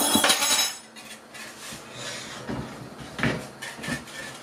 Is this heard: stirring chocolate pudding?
yes